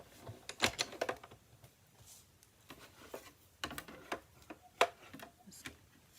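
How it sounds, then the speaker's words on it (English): A cut and emboss machine cranking paper through, heard as quiet, irregular clicking and ticking mechanical taps with a few sharper clacks, close by and with no talking. "This is the cut and emboss machine."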